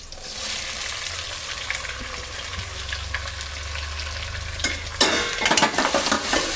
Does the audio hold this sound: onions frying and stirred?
yes